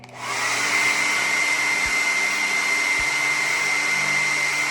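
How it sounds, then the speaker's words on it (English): A hair dryer blows on high, a steady loud whooshing hiss with a constant whine, starting up abruptly and running evenly. "I have different intensities of airflow on my hairdryer."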